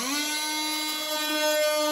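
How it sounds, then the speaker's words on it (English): A track saw cuts through floating floor flooring with a steady high-pitched whine that holds a constant tone for about two seconds, loud and close, with no voices. "To cut this portion of the flooring out, I will actually remove as much as I can with the track saw."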